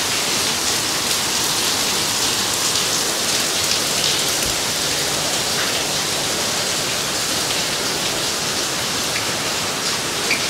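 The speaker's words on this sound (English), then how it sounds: "It's still raining." Steady rain pours down, a dense, even hiss of drops on surfaces that continues unbroken throughout.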